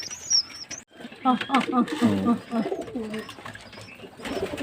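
Pigeons coo in bursts at close range while wings flap now and then, a busy loft of birds being fed with a voice talking over them.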